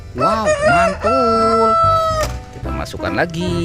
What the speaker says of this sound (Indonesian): Ada ayam berkokok.